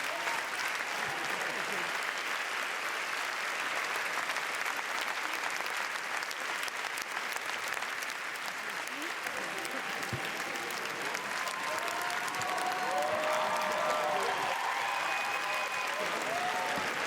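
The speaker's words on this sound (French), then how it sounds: "A lot of applause, making them feel very, very welcome here in Cannes." Steady sustained applause from a cinema audience at the Cannes Film Festival premiere of Capernaum, dense and even clapping throughout, with faint voices mixed in.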